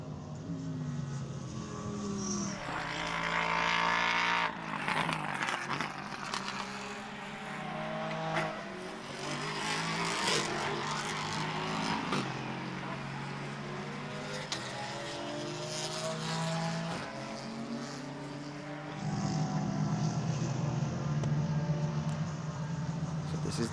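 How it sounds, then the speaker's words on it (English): Touring race cars, a Honda and an Audi among them, battling in an FIA endurance race at Slovakia Ring, with engine roars rising and falling as they pass, steady and loud throughout. "This is the touring cars having their fight."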